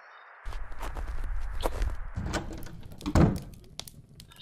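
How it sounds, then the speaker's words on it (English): A frozen-shut door being tried in a cozy point-and-click horror game: a few dull thunks and a heavier knock with a scraping rattle, close and fairly loud, with no talk. "Door's Frozen shut."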